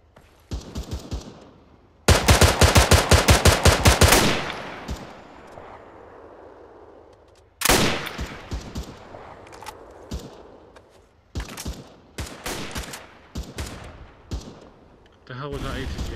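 Rapid automatic gunfire in the Arma 3 military shooter comes in several sharp bursts, with a long, loud volley in the middle and shorter scattered strings of shots later, some near and some more distant.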